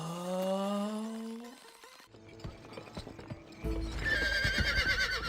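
A horse in the video game GUN, hooves clip-clopping and a loud neigh near the end, with a musical tone fading out at the start.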